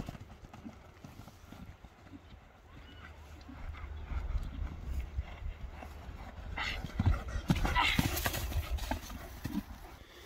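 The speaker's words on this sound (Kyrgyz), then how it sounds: "Туягы жеңил экен, достор. Кана дагы бир чаап койчу." A horse's hooves clop rapidly on the ground during a horse sale, faint at first and growing louder as it comes closer, with voices faintly in the background.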